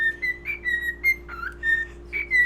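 A person whistles short, bright, repeated phrases at a pet bird, close and clear over a faint steady hum, with brief pauses between notes.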